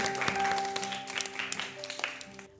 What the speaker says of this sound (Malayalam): കൈയടിച്ചേ ഒരു കൈ കൊടുത്തേ